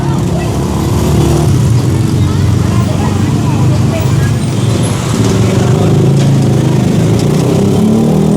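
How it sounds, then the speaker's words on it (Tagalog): Engines of many motorcycles and other road vehicles idle and rumble steadily along a crowded street during an illegal-parking clearing operation, a continuous loud low drone with voices talking over it. "Maraming motorsiklo dito."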